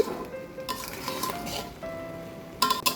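Mango pickle being stirred with spices: a spoon scrapes and clinks softly against the pot in a few gentle strokes, with a louder clink near the end and no talk.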